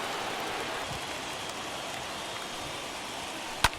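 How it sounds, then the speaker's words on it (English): Rain falling on a ballpark in the video game MLB The Show 21, during a World Series game between the Philadelphia Phillies and Toronto, a steady hiss of rainfall with a brief sharp knock near the end. "Yeah, it's raining, so there's going to be some errors."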